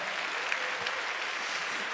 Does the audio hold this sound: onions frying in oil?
no